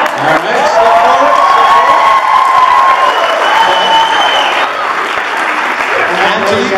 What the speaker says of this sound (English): I heard a loud applause for the lady in the black and yellow dress